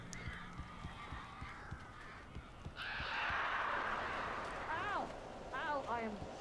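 Birds in the Alan Wake video game: a low rumbling ambience gives way to a rushing flutter, then several sharp squawking calls near the end.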